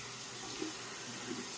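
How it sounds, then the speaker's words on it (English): Water runs and gurgles steadily in a bathroom sink during a wet shave, a continuous soft rushing close by with no talk over it. "I'm going to drain the sink here and wash some of this"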